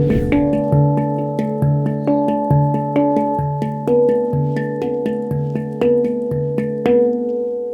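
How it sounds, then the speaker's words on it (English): A handpan played melodically, with ringing metallic tones struck in a steady rhythm, notes overlapping and sustaining warmly. "A handpan, but it's a space drum."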